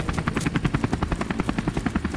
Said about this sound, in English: Is that our heli? I think that's our heli.